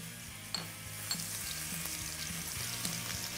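Garlic sizzles and crackles steadily in hot oil, close up, with a few soft clinks of a utensil stirring the pan.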